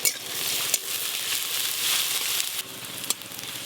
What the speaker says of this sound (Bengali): পেঁয়াজ আর কাঁচা লঙ্কা একটু হালকা করে ভাজা ভাজা হয়ে গেছে